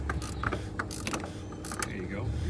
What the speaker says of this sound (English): your ratchet, your 36 millimeter socket, and you're going to tighten it down.